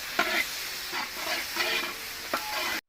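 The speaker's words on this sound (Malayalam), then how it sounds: "നന്നായിട്ട് ഇളക്കി ഉള്ളിയൊക്കെ ഒന്ന് നന്നായിട്ടൊന്ന് വാട്ടിയെടുക്കുക" Onions with salt being stirred in a pot as they fry for chicken dum biryani, a steady close sizzle broken by a few scraping stirs, with no voices.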